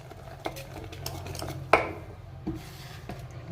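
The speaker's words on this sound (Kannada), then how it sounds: "ಈಗ ಹಾಕ್ಬಿಟ್ಟು ಬೀಟರಲ್ಲಿ ಬೀಟ್ ಮಾಡ್ಕೊಳ್ಳೋಣ ಚೆನ್ನಾಗಿ ಕಲಿಸ್ಕೊಳ್ಬೇಕು" A beater works leftover-rice idli batter in a bowl, with a few sharp clinks against the sides and soft scraping stirs between them, close and fairly quiet.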